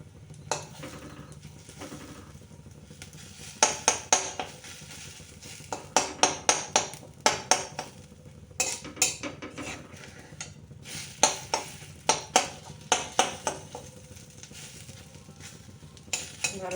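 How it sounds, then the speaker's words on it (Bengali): Fish roe frying in a pan, with repeated sharp clinks and scrapes of a utensil against the pan over a low sizzle, loud and close, no voices. "মাছের ডিমটা ভেজে নেব ভালো করে"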